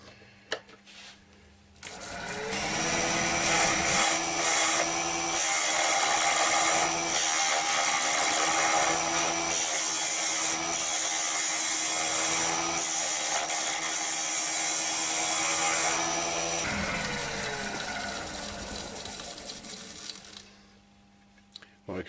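A turning tool scrapes out a small hard oak bowl on a lathe, a sustained gritty cutting noise that starts after a quiet moment, runs steadily for about fifteen seconds and fades as the tool lifts away.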